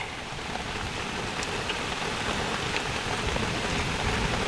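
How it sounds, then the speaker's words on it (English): Heavy rain pours steadily over an outdoor forest cooking site, a dense, even hiss of drops on surfaces that stays loud and close throughout, with no talk. "Heavy rain."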